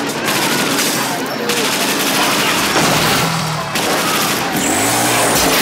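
Bursts of rapid gunfire from the action film Death Wish 3, loud cracking volleys and machine-gun rattles mixed with engine noise and booms, with voices heard amid the chaos.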